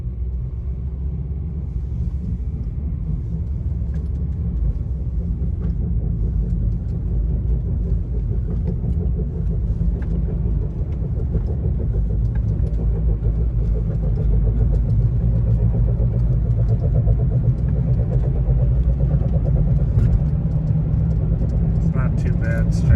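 Worn wheel bearing on a 2009-2020 Honda Fit, heard from inside while driving as a steady, droning low rumble and hum under continuous road noise.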